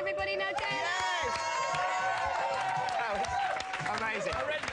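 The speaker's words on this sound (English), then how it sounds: "massive round of applause to the boys, everybody" Studio audience applauding and cheering for a boy band, continuous loud clapping with shrieks and chatter under excited talk from a presenter.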